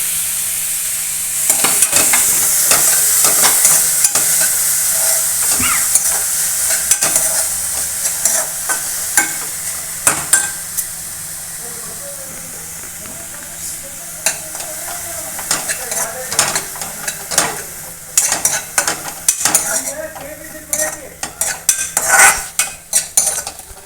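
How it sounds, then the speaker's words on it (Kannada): Onion and capsicum stir-fry in a pan for bread toast, a steady close sizzle broken by frequent sharp scrapes and clinks of a spatula against the metal, the stirring growing more irregular toward the end. "ಕ್ಯಾಪ್ಸಿಕಮ್ ಹಾಕಿ ಸ್ವಲ್ಪ ಫ್ರೈ ಮಾಡಿದೆ ಈರುಳ್ಳಿ ಹಾಕಿ ಫ್ರೈ ಮಾಡಿದೆ"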